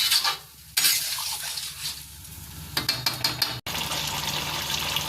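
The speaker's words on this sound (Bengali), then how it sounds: "এবার আমি এর মধ্যে জলটা দিয়ে দিচ্ছি" Water goes into a pan of boiled-potato curry (aloo dum) and gets stirred, bringing a bright hissing sizzle, scraping spoon strokes against the pan and a brief dropout before the hiss resumes loudly near at hand.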